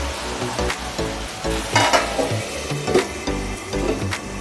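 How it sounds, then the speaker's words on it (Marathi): Sabudana khichdi fries in hot oil with a steady sizzle and crackle, and occasional clinks and scrapes of a spoon stirring the pan stand out above it. "हे तेलात असल्यामुळे हे पटकन फ्राय होते आणि पटकन शिजल्या जाते।"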